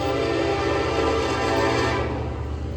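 Norfolk Southern freight train on the Charlotte District with KCS locomotives and a mid-train DPU rolls by close and loud, a steady rumble of wheels and engines with a brief horn tone.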